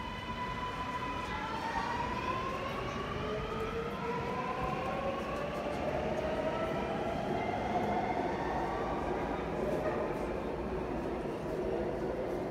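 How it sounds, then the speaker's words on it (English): A Sydney Metro train departs Cherrybrook Station, an open-cut station, with a loud steady rumble and rising electric motor whine as it picks up speed nearby. "Sydney Metro now departing Cherrybrook Station, bound for Chatswood."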